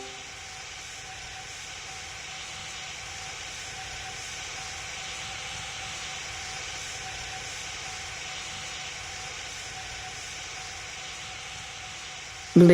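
Airplane engine in the Roblox game Pilot Training Flight Simulator, a steady droning hum holding evenly at moderate level throughout, with a sudden louder burst at the very end.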